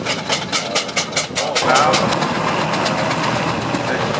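A restored steam engine at the Great Dorset Steam Fair chuffs in a quick, even rhythm, then settles into a steady, heavy idle. The sound is close and loud, and a man briefly starts to speak.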